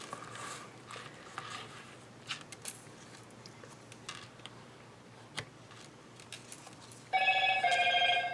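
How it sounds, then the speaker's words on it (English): Near the end, a telephone bursts into a loud electronic ringing trill after a quiet stretch of scattered ticks and small handling noises, with no one talking. "there goes my phone"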